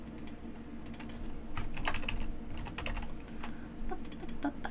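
Close, continuous typing on a computer keyboard, with quick irregular key clicks over a low background hum.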